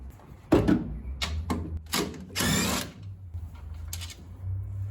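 Several short bursts of a power drill boring holes into the body of a 1984 VW MK1 Rabbit, separated by pauses, over a low steady hum.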